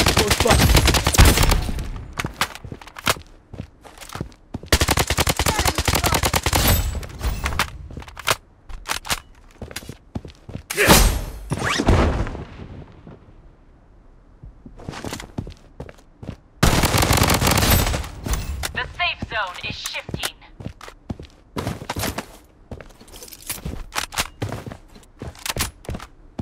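Vector and Scar gunfire in the shooter game Blood Strike: loud rapid automatic bursts, close and sharp, repeating in dense runs with short silent gaps and a quieter stretch midway.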